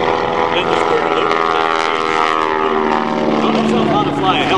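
Stock Stearman biplane flying variable aerobatic loops at an air show, its radial propeller engine droning steadily and loud throughout with a broad, rumbling harmonic roar and slight pitch shifts, with no talk in the clip.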